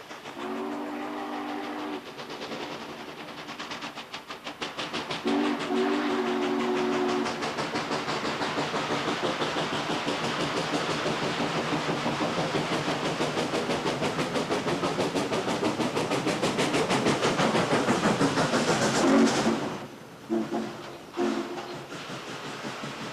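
Steam locomotive 611 climbs a grade hauling a passenger train, its loud steady exhaust chuff and rail clatter filling the scene, with long whistle blasts sounding near the start and again just before the end.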